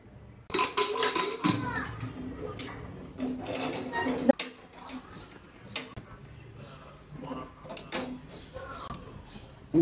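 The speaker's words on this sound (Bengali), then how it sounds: "এখন প্রেশার কুকারটা আমি ঢেকে দেবো।" Lid being placed and shut on a pressure cooker while chicken cooks, metallic scrapes and clunks with a sharp closing knock midway, under someone talking.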